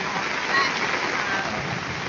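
Heavy rain falls on farmland being surveyed for shallot planting, giving a steady broadband hiss of downpour at constant loudness with no clear individual drops standing out.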